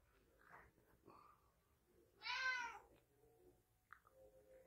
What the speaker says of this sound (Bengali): Italian pussy cat.